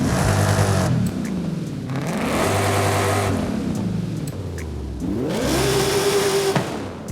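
A 1995 Ford Mustang SVT Cobra R in Forza Horizon 5 revs its exhaust in three loud, rising-and-falling bursts, each climbing in pitch and then dropping back to a rough idle.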